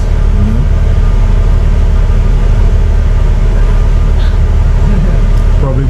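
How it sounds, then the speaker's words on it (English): A UK bus's air conditioning system runs inside the vehicle as a loud, steady low drone and rumble that fills the whole stretch without a break. "We have the bus switching on the air system. It's a little bit noisy, but it's okay."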